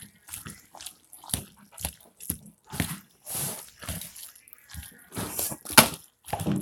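Mac and cheese being stirred one-handed in a pot in a home kitchen, a run of soft, wet scraping and squelching strokes at close range with irregular rhythm and no talk.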